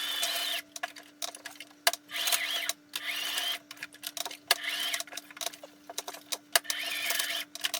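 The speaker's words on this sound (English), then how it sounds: "I'm going to sew an X into the elastic" Domestic sewing machine stitching an X pattern into elastic for a cosplay skirt, heard in close, steady bursts of whirring stitching broken by short pauses as the fabric is turned, with a constant low hum underneath.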